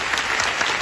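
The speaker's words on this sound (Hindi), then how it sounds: "जमात के नाम पर एक तालियां बजा" A dense burst of applause from an audience at a community welfare association function, many hands clapping together in a steady, close wash of sound.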